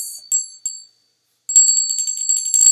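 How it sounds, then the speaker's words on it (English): A small handheld bell rung while calling in spirits gives a few bright, high rings that fade, then after a pause a rapid run of repeated strikes shimmers on, loud and clear with no talking. "a high frequency sound, a bell"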